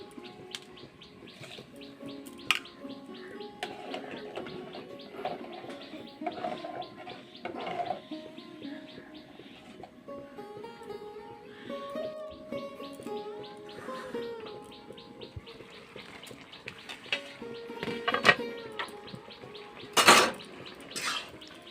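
Washed lentils and rice tipped into a pot of already hot water, giving soft splashes and clatter of utensils, with a louder burst near the end and birds chirping in the background; no one talks.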